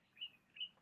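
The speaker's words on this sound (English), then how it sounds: "this fucking bird on the roof" A bird on a roof gives two faint, thin chirps about half a second apart, heard at a distance indoors with no talking.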